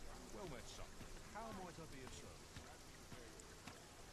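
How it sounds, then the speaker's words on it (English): Rain falls in the video game Dragon's Dogma 2, a faint, steady patter on surfaces that runs beneath someone talking over it. "Is my dude actually reacting to the rain?"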